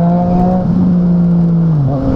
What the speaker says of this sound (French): J'accélère, je fais qu'accélérer. En 2 et ça lève.